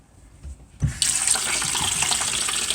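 Water bursts from an open washing machine supply hose stuck into a drain once the valve is turned on, a sudden loud gushing splash that follows a couple of faint clanks and then runs steadily.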